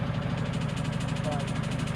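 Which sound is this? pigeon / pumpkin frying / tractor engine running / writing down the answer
tractor engine running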